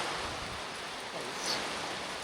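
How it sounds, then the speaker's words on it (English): Rain falls steadily on a dry homestead at the end of September, a dense, even hiss with no breaks and a slight swell midway. "we're going to just enjoy this rain because we haven't had rain since June"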